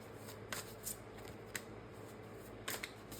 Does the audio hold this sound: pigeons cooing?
no